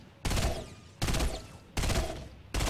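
Rapid bursts of automatic gunfire from a shooter video game, with three loud, close volleys separated by short gaps and no talk.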